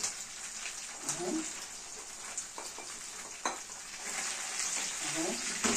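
Garlic sizzles softly in a frying pan while it is stirred, with a few scattered scrapes and taps of the spoon over a steady low hiss.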